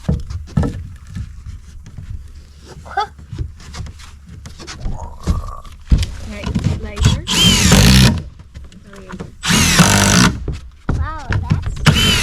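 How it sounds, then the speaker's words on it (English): A power drill drives screws into a wooden platform joining two canoes into a pontoon boat. Two short, loud whirring bursts come up close, between quieter stretches of handling noise and people talking. "I fastened the two pieces of platform together with a couple screws"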